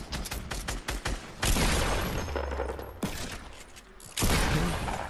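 Revolver gunshots in a shooter video game: a burst of sharp cracks early on, then heavier booming blasts and echoing impacts, loud and close with brief gaps.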